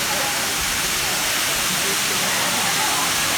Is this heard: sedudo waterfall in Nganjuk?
yes